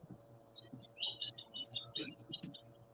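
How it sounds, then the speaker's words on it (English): Birds outside an open window give faint, scattered chirps and tweets over a low indoor hum, with soft movement noises mixed in. "I hear birds."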